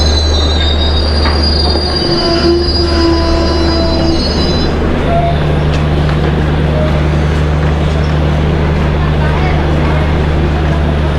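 Indian Railways train, the Sambaleswari Express, pulling into a crowded, busy station, with loud steady rail rumble and shrill wheel squeal over the first few seconds, then a sustained low hum as it slows; faint voices in the background.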